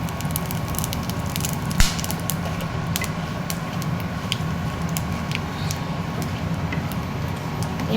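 Whole cumin, cardamom pods and cloves frying in hot oil in a pan, giving a steady, close sizzle and crackle with faint pops throughout, no talking.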